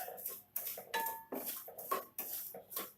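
Semolina being roasted for upma, stirred in a pan with a utensil that scrapes and clinks against the metal in about eight quick, rhythmic strokes, close and fairly quiet, with no voices.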